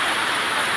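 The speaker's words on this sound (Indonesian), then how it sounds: "Hujan lebat pula." Heavy rain falling outdoors, a loud steady hiss with no breaks, close and continuous.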